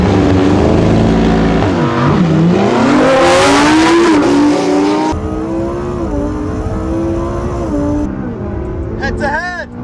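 A Lamborghini Huracan STO and a McLaren 600LT in a tiebreaker drag race, loud engines revving and rising through gear changes up close, then fading and shifting, with voices talking over the noise.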